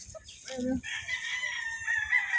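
A three-way cross gamefowl stag crows at a game farm, one long raspy crow carrying through most of the moment, with a brief cluck at the start and other birds faintly behind.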